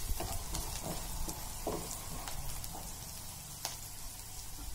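Coriander powder sautéed in hot oil in a pan for a ridged gourd and chana dal curry, giving a faint, steady sizzle with a few soft clicks and taps.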